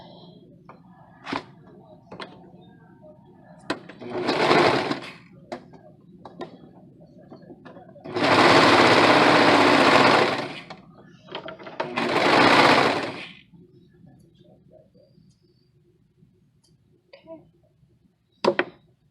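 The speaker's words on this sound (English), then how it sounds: "So give me 1 second while I serge this." A serger overlocks a finished seam on a pair of sewing pants, running in three bursts, the longest about two seconds, loud and close, with quieter handling clicks and rustles between runs.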